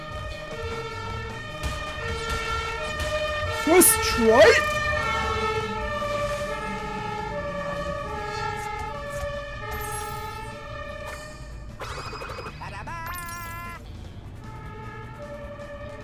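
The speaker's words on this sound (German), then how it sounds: "Tatütata, das fehlt mir ja jetzt gerade noch." A wailing emergency-vehicle siren in the Crash Bandicoot N. Sane Trilogy game, repeating two-tone blasts over game music, with brief swooping effects and a few spoken words.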